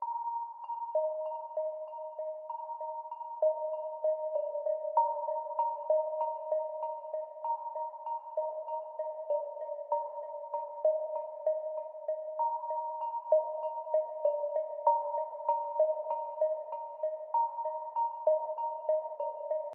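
Soft, slow synth keys alternate between two pitches in a gentle pattern, washed in reverb and delay, quiet and airy throughout.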